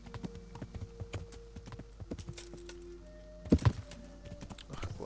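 Horse hooves clip-clopping in the video game Kingdom Come: Deliverance, a steady run of hoof thuds close by with a heavier thump near the end.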